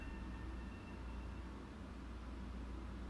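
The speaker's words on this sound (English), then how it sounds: "There's a train to my right." A passing commuter train on the Metro-North Northeast Corridor in the Train Sim World 6 game, a steady low rumble and rail hiss holding at an even level throughout, with no talking.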